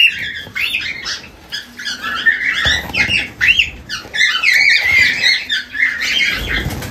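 A group of pet cockatiels squawk and chirp almost without pause, a dense, shrill chatter of overlapping calls close by.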